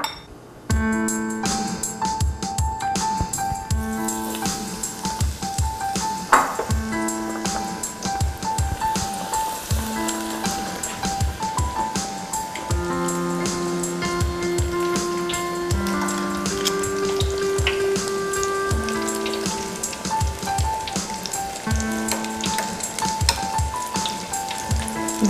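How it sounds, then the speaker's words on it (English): Battered broccoli florets deep fry in hot oil, giving a steady, dense crackling sizzle with fine popping that runs without a break, close and fairly loud, with a tonal hum underneath. "I'm gonna fry off these little broccoli florets here."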